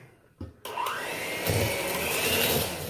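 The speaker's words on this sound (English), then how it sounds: "Now let's try mixing this some more." Electric mixer whirring through spritz cookie dough with almond flavoring, a click, a brief start and then a steady motor drone that strains and grinds as the dough thickens, close by with no voices.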